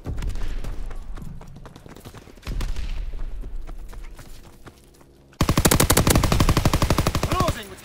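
Call of Duty WW2 gunfire: bursts of automatic fire and heavy impacts at first, then a sustained rapid machine-gun stream crackling loudly and close toward the end, with game voices in the background.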